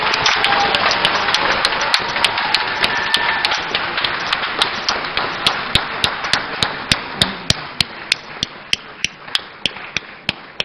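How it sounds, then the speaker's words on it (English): Audience applause at an induction ceremony for newly qualified chartered architects in Ghana, a steady loud wash of clapping with sharp regular knocks standing out through it. "Shall we give them another round of applause"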